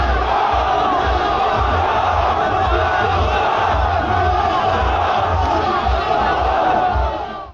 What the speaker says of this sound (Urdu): جیالوں نے ان کے خلاف خوب نعرے بازی کی۔